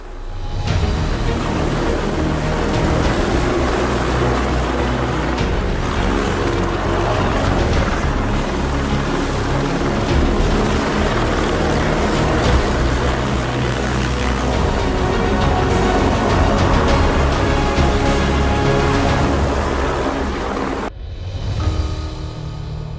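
Helicopters fly overhead with a loud, steady rotor roar and engine drone that holds at the same level for about twenty seconds, then cuts off abruptly near the end.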